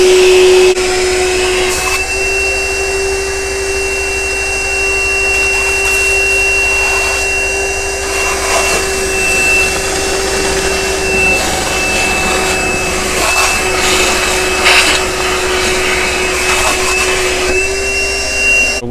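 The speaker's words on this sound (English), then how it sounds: "let's suck this water up, see if we can with what little battery we've got left here" A Milwaukee M18 cordless compact vacuum motor whines steadily at a constant pitch while sucking up water, with gurgling, slurping suction noises running underneath, close by and continuous.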